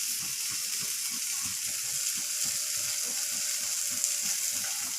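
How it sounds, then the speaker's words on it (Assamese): Coriander and cumin powder frying in a pan, a steady faint hiss of sizzling oil with a soft rhythmic clicking underneath, continuous and without talk. "এতিয়া এইখিনি মই 1 মিনিটমান সময় ভাজি ল'ম।"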